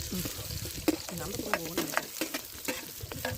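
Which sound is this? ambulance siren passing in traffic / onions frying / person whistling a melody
onions frying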